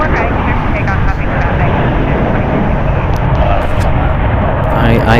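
A jet airliner taking off at San Francisco International Airport, a loud, continuous broadband engine roar that fills the whole clip, with radio talk faintly underneath.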